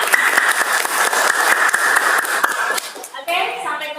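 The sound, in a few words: applause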